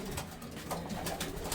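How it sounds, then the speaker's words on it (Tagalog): Pigeons cooing inside a loft, soft continuous murmuring coos against a steady background of bird activity, with no talk. "At nandito tayo sa loft. Nag-aasikaso tayo ng mga ibon natin."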